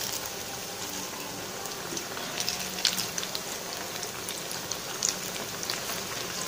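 Stuffed bread pieces frying in hot oil for an evening snack, giving a steady, dense sizzle and crackle throughout with a few sharper pops, close and continuous.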